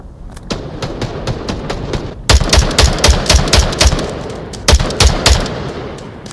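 Rapid bursts of gunfire in the VR shooter Onward during a competitive match, with a lighter volley giving way to louder, denser automatic fire from about two seconds in and a brief pause before another burst.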